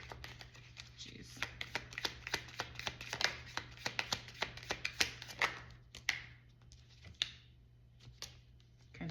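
Quick riffling bursts and soft slaps of cards being shuffled close by, repeated in uneven clusters with a faint hum underneath.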